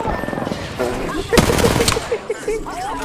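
Rapid automatic gunfire in a video game firefight, a dense rattling burst with a sharp crack midway, mixed with game noise and brief voices.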